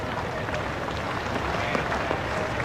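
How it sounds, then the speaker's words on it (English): A Test cricket crowd at Adelaide gives a generous round of applause, a distant, even wash of many spectators clapping that rolls on without pause, with a faint murmur mixed in. "Generous round of applause from this very knowledgeable Adelaide crowd"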